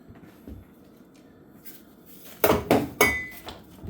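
A utensil clinks and scrapes against a bowl while sugar is mixed for peach cobbler, faint shuffling at first, then a few loud sharp metallic knocks near the end.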